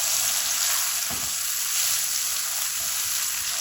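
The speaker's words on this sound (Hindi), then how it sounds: "अब यहाँ पे मैं प्याज पहले डालूंगी। प्याज को बस थोड़ा सा हमने इसका कच्चापन जो है ना वो ख़त्म करना है" Onions frying in a pan, a dense, steady hiss of sizzling oil that stays loud and even, with a faint stir or two underneath.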